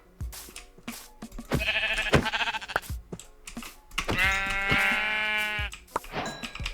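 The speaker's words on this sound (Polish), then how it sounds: "E, o, sheep." Minecraft sheep bleating in repeated wavering calls, fairly close, with clicky keyboard-like tapping between them and no talk.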